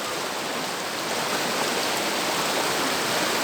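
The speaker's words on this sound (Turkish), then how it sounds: "Dere pırıl pırıl akıyor resmen." A creek flows steadily in the open air, a dense, continuous wash of rushing water with no pauses, fairly close and even in level throughout, with no voices over it.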